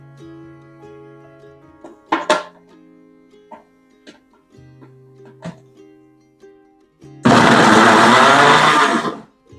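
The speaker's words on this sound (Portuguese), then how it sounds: "bater primeiro esses ingredientes para ajudar, né, no liquidificador" A blender blending apple and cucumber for green juice roars loudly into action near the end, following scattered clinks and light taps of preparation.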